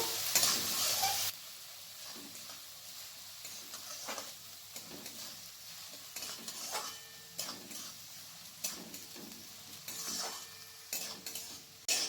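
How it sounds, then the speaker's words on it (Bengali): Two medium chopped onions sizzle and frying in oil as a spoon repeatedly stirs and scrapes the pan, rhythmic scraping strokes over a soft hiss, with a louder burst at the start. "পেঁয়াজটাকে আমি এখানে লাল লাল করে ভেজে নেবো"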